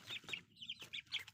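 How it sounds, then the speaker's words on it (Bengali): Tiger breed chickens on a poultry farm cluck softly in short, quick bursts. Several birds sound close but faint, with brief pauses between calls. "এগুলো হচ্ছে টাইগার মুরগি।"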